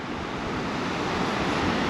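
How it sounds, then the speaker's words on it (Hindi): A snowmelt river coming down from the snowy mountains between Pahalgam and Sheshnag Lake in Kashmir gives a steady, full rushing roar that stays even and close throughout, with no voices. "एक रिवर तो ऊपर से भी निकल रही है बर्फीले पहाड़ों से।"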